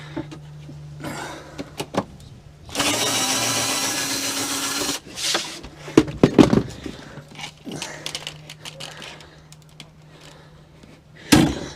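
Drawer slides being pulled out of a van during a gut-out, with scraping metal runners, a long grinding rub, sharp clunks and knocks of hardware, close and uneven.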